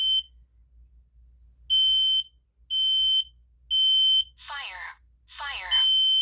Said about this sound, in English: We're going to wait until this alarm silences.